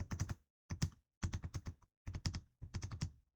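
Quick bursts of clicky keystrokes on a computer keyboard, typed in short separated runs while a table name is entered in Excel, close and fairly quiet with pauses between groups.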